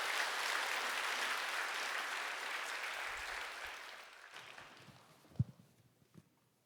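A church congregation at a Sunday service claps to welcome a deaconess forward, a broad wash of applause that gradually fades out, leaving a few soft thumps and footsteps in a quiet hall.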